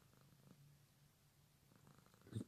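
A cat purrs softly and steadily in a dark room. The faint, low rumble continues throughout, with a brief louder rustle at the very end.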